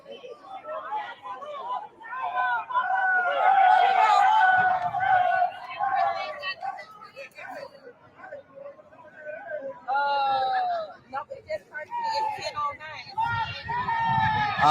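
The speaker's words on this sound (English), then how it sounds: "The crowd is getting bigger and bigger." A crowd at a riot outside the St. Louis Justice Center, with overlapping shouting, wailing voices and chatter rising and falling close by, loud and continuous.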